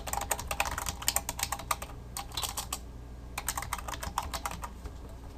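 Quick bursts of keystrokes on a computer keyboard tap out an email address, clicking in short runs separated by a brief pause, close and clear with no talking.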